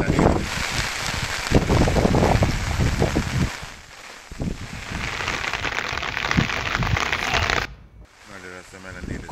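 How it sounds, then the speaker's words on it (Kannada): Heavy monsoon rain pours across Kodagu, a dense, continuous hiss of downpour close to the microphone with gusty rumbles, lasting nearly the whole stretch before a brief dip near the end. "ಸದ್ಯ ಕೊಡಗಿನ ಎಲ್ಲ ಕಡೆ ಧಾರಾಕಾರ ಮಳೆ ಸುರಿತಾ ಇರೋದು."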